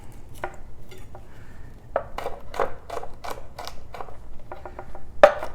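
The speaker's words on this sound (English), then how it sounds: "smash the cloves down so that you can get the peels off, and then mince that up a little bit" A knife chops and minces smashed, peeled garlic cloves on a board, giving a run of quick, sharp taps and clicks that cluster into short bursts, fairly close and moderately loud with no talking.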